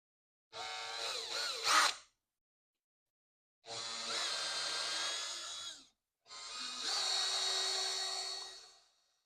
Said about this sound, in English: We go to a slightly larger drill bit.